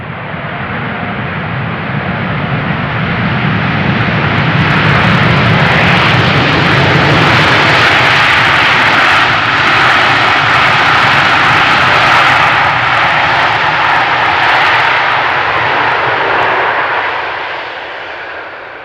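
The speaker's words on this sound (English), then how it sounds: "Now that was a royal application of the thrust reversers right in front of us." An airliner lands on runway 18R at Amsterdam Schiphol and applies its thrust reversers, a loud, sustained roaring jet rush that swells up, holds for several seconds and tails off, heard close by outdoors.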